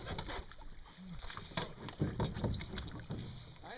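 A canoe moves across open water with paddle strokes and sloshing close by, its splashes rising and falling over a steady wash of wind noise, with no voices heard.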